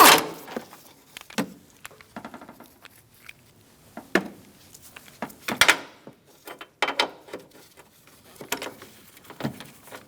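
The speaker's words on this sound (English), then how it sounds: "Using a 15mm socket, we're going to take out 1, 2, 3," A ratchet with a 15mm socket works loose the transmission mount nuts on a 2012-2018 Ford Focus, giving bursts of clicking ratchet strokes and metallic clanks separated by short pauses, close and fairly clear.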